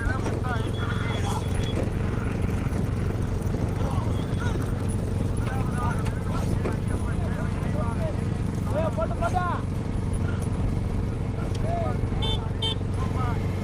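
Bullock cart on a narrow village road near Aranthangi, hooves clopping in a steady rhythm close by over a constant rumbling hum, with voices audible in the background.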